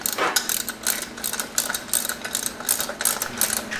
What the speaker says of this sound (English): I can just use these bolts and run them right into the threads that are already there on the headlight